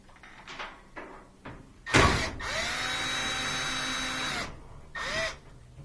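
A power drill whirs near a washer panel of a thin twin laundry center, with a brief spin-up, one sustained run of a couple of seconds, then a short final burst, amid light clicks and handling.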